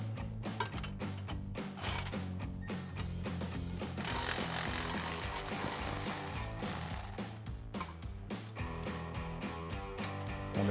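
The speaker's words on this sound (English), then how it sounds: "So we're gonna start by taking off our 13mm bolt with our ratchet and socket." Ratchet and socket loosening a 13mm bolt on a 2014-2024 RAM 2500 truck during spring spacer install, rapid repeated metallic clicking of the pawl in quick bursts, close, with short pauses between strokes.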